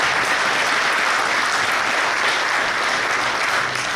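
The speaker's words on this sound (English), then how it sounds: "Give her a round of applause." At a firefighter academy graduation ceremony, a crowd gives sustained applause, a thick, even wash of clapping that stays loud from start to finish without any speech on top.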